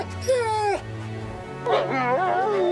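A cartoon wolf whimpers in two drawn-out, wavering whines separated by a short pause, close and clear with no talk over it.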